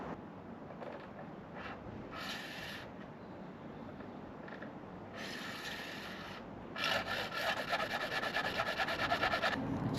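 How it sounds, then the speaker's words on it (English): A hacksaw cuts through a plastic shed gutter, giving short, intermittent rasping strokes that grow steadier and louder toward the end, heard close up over a low background hum. "all we're going to do is cut this with a hacksaw, so the right length."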